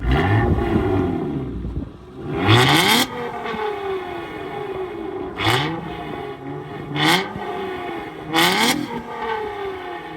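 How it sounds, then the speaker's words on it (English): A car engine with a loud aftermarket exhaust revs repeatedly, several sharp rising bursts that fall away, with wind buffeting the microphone throughout. "This car's exhaust is also not stock, and let me show you guys how it sounds."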